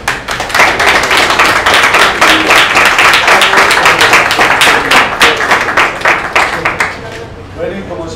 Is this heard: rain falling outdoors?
no